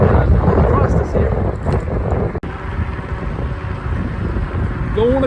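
Strong, steady wind buffets the microphone while someone rides an Ecotric fat tire e-bike outdoors, a continuous loud low roar with gusty swells and one brief dropout midway.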